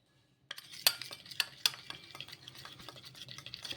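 A spoon mixes maida flour with oil in a bowl, giving soft scraping strokes with a few sharp clinks against the bowl, close and fairly quiet.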